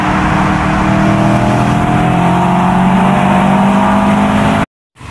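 A Subaru car's engine drones loudly and steadily at high speed, around 100 miles an hour, with a constant roar that cuts off abruptly near the end.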